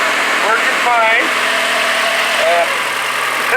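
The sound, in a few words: Kia car engine idling after radiator repair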